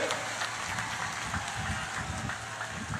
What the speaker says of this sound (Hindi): जरा जोर से ताली बजाओ दोनों के लिए